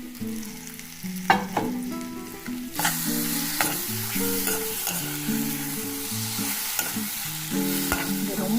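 Ground peanut and tomato paste sautés with turmeric and chilli powder in a pan, giving a steady sizzle with stirring scrapes, while melodic background music plays over it throughout.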